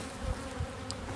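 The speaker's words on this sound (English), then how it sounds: "As you can see, the bees are very active." Honeybees buzz steadily at a strong, very active hive, a dense continuous drone close by with no voices.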